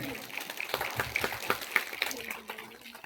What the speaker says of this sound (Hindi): एक बार जोरदार ताली बनाएंगे हम अपने लिए